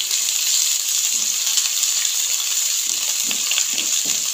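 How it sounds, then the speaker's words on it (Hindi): Ginger garlic paste frying in hot oil for a tomato chutney: a loud, steady, close-up sizzle with a bright hiss throughout and faint stirring knocks toward the end. No voices are heard. "अब इसके अंदर 1 खाने का चम्मच अदरक लहसुन का पेस्ट हम डाल देंगे।"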